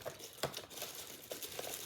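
A plastic bag crinkles close up as it is opened, a continuous dry rustle with a few sharper crackles and no talking.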